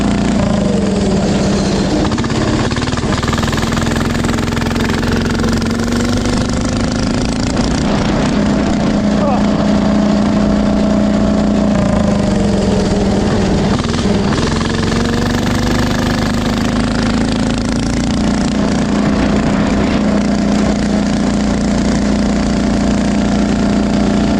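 A cheap 10 HP diesel engine mounted on a go-kart chugs loudly and roughly, its pitch rising and falling as it revs and hauls along, with voices talking over it.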